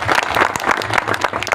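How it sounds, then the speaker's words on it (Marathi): An audience at a village celebration of Ahilyadevi Holkar's 297th birth anniversary claps loudly and steadily, a dense, close burst of many hands throughout. "ज्यांनी मदत केली त्यांच्यासाठी जोरदार टाळ्या"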